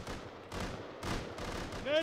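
Sniper rifle shots in the survival game Rust, three or four sharp reports about half a second apart, moderately loud with faint talk in the background.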